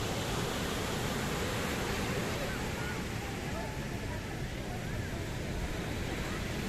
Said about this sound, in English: Now it's gradually increasing. Waves are increasing.